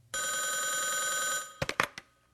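Telephone bell ringing loudly in a steady electric trill for over a second, then a few separate clattering knocks and clicks as the ring stops, alone with no voices.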